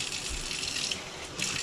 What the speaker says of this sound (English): why is the hot water going like crazy?